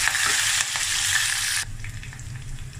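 Green chili pieces frying in hot tempering oil give a loud, steady sizzle that drops abruptly to a softer crackle partway through.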